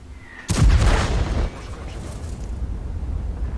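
An artillery shell lands in a tank battle game with a sudden loud booming impact that rumbles for about a second, then fades into steady background noise.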